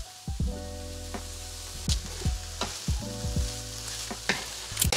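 Meat for tacos sizzles in hot oil in a pan, a constant loud crackle with several clattering stirs and scrapes of a utensil against the pan, close up and with no talk.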